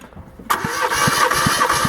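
A Mazda 323 engine catches after a brief crank and settles into a rough, pulsing idle up close, loud and alone without any talking.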